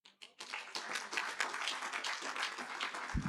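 Audience at a national counsellors' summit clapping together, a sustained dense round of hand claps after a couple of opening claps, continuing steadily throughout.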